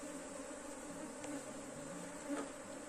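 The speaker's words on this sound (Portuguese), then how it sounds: "Toda abelha que está no mato, essas que estão aqui voando," Honeybees fly around a beehive in a steady, faint buzzing drone that holds for the whole stretch, with a few louder passes as single bees come near.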